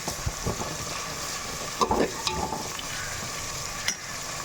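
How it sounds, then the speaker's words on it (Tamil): Sliced onions with salt sautéing in a pan for prawn biryani, a steady close sizzle and frying hiss with a few scrapes and stirs of a spoon against the pan. "வெங்காயம் நல்லா கொஞ்சமாக வதங்கி வரட்டும்"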